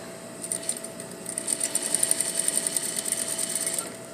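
A sewing machine runs steadily as it stitches a half-inch shoulder seam on a dress bodice and back tacks, a close, continuous whirring with a rapid needle clatter and no voices.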